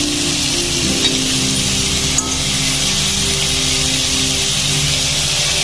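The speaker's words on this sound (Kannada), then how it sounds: "ನೋಡಿ ಈಗ ಈರುಳ್ಳಿ ಹಾಕಿದ್ದೀನಿ." Onions frying in a pan while cooking an Indian-style pasta dish, giving a steady, loud hiss and crackle throughout with a steady low hum underneath and one brief clink partway through.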